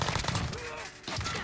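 Automatic gunfire in a shooter video game rattles in rapid bursts, stops briefly, then resumes, loud and close with no speech over it.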